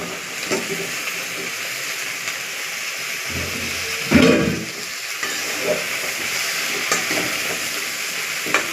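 Sliced beans, onion and potato dropped into spices frying in a pan, an even sizzle with a louder burst of hiss and stirring around the middle as the vegetables go in, no speech.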